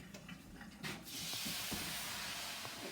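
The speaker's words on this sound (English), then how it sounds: "Sizzling, sizzling." A hot, smoking pan hisses loudly and continuously under tap water, a broad steady sizzle rising after a second of softer splashing and clatter.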